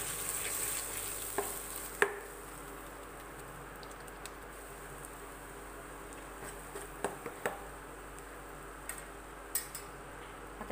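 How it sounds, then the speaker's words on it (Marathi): Peanut and coconut masala sautéed in a pan for a methi masala curry, a quiet steady sizzle with sparse light clicks and scrapes of a spatula. "आता मी याच्यात आपला जो होता तो टाकते आहे, शेंगदाणं खोबरं का, तो पण आपण व्यवस्थित परतून घेऊ 2 मिनटं।"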